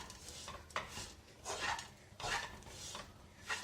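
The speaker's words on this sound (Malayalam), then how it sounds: "ഇനി നമുക്ക് നന്നായിട്ട് മിക്സ് ചെയ്തെടുക്കാം." Sesame, gram, cardamom and coconut mixed with ghee are stirred with a utensil scraping a pan, giving a few close, rhythmic scraping strokes with soft clinks, and no voices.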